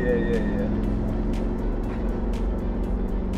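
A Mercedes-AMG G 63 with a V8 biturbo engine rumbles steadily from inside the cabin, a low, constant throaty drone with faint ticking on top, while no one speaks over it.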